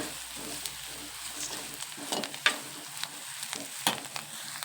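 Gram flour masala mixture being stirred in a hot pan, with a spoon scraping and clicking against the pan over a soft, steady frying sizzle, close and moderately quiet, with no talk.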